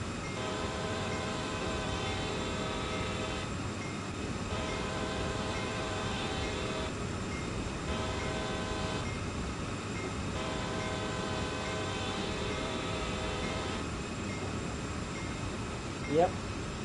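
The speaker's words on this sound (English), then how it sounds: "Choo-choo train." A train in Train Sim World 3 rumbles steadily throughout, with a loud, sustained multi-tone horn sounding in repeated long blasts. A voice is faintly heard under the noise.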